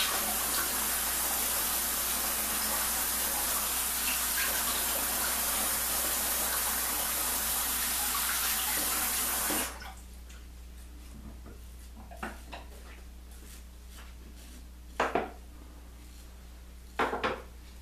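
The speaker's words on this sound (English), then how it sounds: "cold rinse." A tap runs strongly for a cold rinse during a wet shave, a loud steady rush of water for about nine seconds before it cuts off, followed by quiet with a few soft clinks and knocks.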